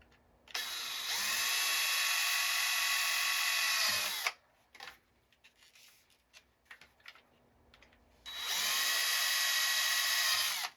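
Two long bursts of a high-pitched power drill whirring steadily during an arcade cabinet restoration, separated by a pause with small clicks and handling noises, close by.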